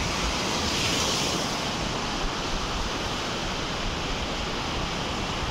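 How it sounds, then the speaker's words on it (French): Steady roar of ocean surf washing continuously, a broad hiss of breaking waves with no voices, filling the whole stretch at an even level. "Donc on entend bien les vagues."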